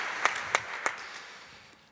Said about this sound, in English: we can give applause to Andrew